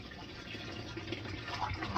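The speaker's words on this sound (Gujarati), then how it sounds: "હું પાણી ચાલુ કરી નાખું તો ફટાફટ પાણી કરી નાખું" Water runs from a tap into a container in a soft, steady rushing stream, faint and continuous with no voices over it.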